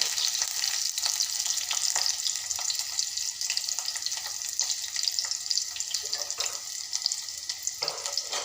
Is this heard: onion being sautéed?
yes